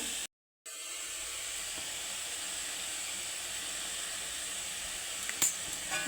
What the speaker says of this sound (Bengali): আদাটাকে একটু আমি ভালো করে একটু হালকা করে একটু ভেজে নেব